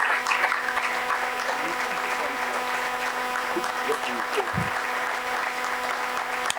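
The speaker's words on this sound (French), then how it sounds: "Quand il vient, on acclame le Seigneur très fort." A church congregation gives sustained loud applause with mixed voices cheering and acclaiming throughout, a dense steady roar of clapping filling the room.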